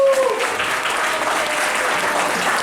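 Audience applause for La Compagnie dance troupe at Rendez-vous Détroit, a dense, steady wash of clapping that fills the whole stretch at full volume, close and continuous with no talk over it.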